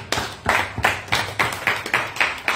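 A church congregation claps together in a steady rhythm, about two claps per second, close and fairly loud with no talking.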